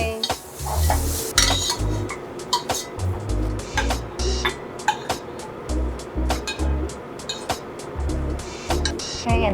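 Julienned zucchini sautéed with salt in a pan while preparing lobster ramen, with a rhythmic scrape and clatter of utensil against metal, repeated stirring knocks and clinks, and only faint sizzling beneath.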